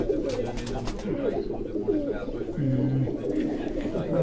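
Pearl-spotted pigeons at a loft cooing in low, rolling calls, several birds overlapping continuously at close range.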